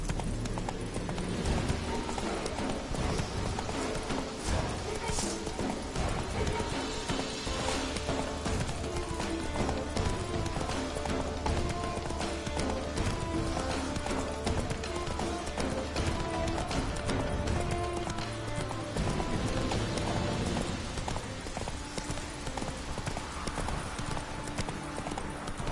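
A horse galloping in The Witcher 3: Wild Hunt, continuous rhythmic hoof clip-clops under game music and ambience, with occasional voices talking.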